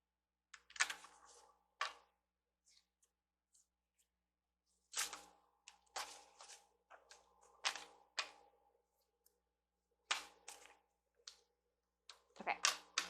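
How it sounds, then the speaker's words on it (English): A deck of tarot-style cards is handled and shuffled in short bursts of crisp riffling and slapping clicks, separated by quiet pauses, close and fairly faint. "can't shuffle these."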